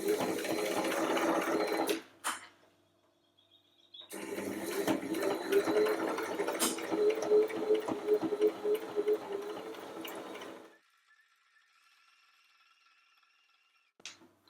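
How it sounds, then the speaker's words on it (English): A Brother LS14S sewing machine stitching forward runs in two long steady bursts of fast mechanical whirring and needle chatter, separated by pauses with a quiet hum, ending with a brief click. "then you just let go and let it sew forward again"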